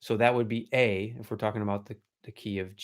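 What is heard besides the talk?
No everyday noises stand out.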